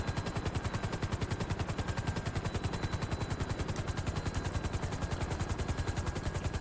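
A helicopter in the video game GTA V chops steadily and loudly, its rotor giving a fast, even pulsing beat that fills the whole stretch without pause.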